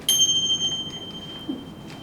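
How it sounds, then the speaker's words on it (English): A single mindfulness bell is struck once, its clear high tone ringing out and slowly fading over a quiet background. "I'm so bad at these bells."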